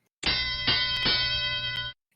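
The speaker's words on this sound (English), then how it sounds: "Ring that bell." A single bell is struck once on a podcast, ringing with a bright sustained metallic tone for about two seconds before cutting off, loud and close with no talk.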